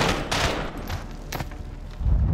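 Video-game gunfire from Call of Duty Modern Warfare, a rapid series of close, sharp shots in uneven bursts with a low thump near the end and no voices.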